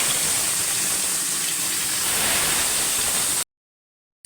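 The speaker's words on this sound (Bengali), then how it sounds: "তেল গরম হয়ে গেছে, মাছ দিয়ে দেবো" Pomfret frying in hot oil in a kadai, a loud, steady hissing sizzle close to the microphone that cuts off abruptly near the end.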